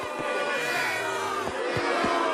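Crowd noise from an animated sitcom scene, a dense wash of voices jeering and shouting together, steady and loud for a couple of seconds.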